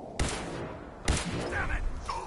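A few heavy gunshots in the video game Fallout 4, two sharp booming reports about a second apart amid combat noise, with brief voiced game chatter.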